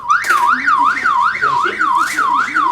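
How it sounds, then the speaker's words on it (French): A loud electronic alarm warbles up and down in a steady repeating sweep, about twice per second, continuous and close: the 144 emergency dispatch call alarm at an emergency medical service. "C'est l'alarme du 144 qui résonne."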